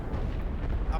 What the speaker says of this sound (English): They do have artillery, so they're hitting us with a decent amount.